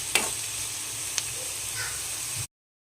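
Potatoes and green peas sauté in a pan with bay leaves and turmeric, giving a steady close sizzle with a few faint stirring scrapes for a couple of seconds before cutting off.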